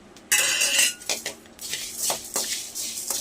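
Fennel seeds tipped into a pan of roasting coriander seeds for a chicken curry, heard as a loud rattling clatter of metal and dry seeds with several sharp clinks, then quieter scraping stirs.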